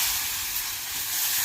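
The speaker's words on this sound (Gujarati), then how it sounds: "गैसनी फ्लेम धीमी करीने ज आनी अंदर धीरेथी पाणी नाखी" Water poured slowly into hot roasted flour for raab gives a loud, broad, steady hiss of steam that holds evenly for the whole short stretch, alone without speech.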